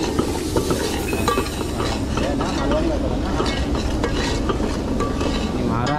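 Crab fry cooks in a pan in a home kitchen, sizzling steadily while a spoon stirs and clinks against the metal, with faint background voices mixed in.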